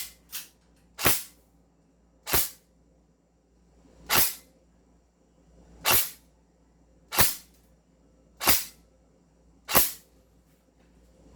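An airsoft AK-74 rifle fires single shots, about nine sharp cracks in a loose, unhurried rhythm, close and loud with quiet gaps between.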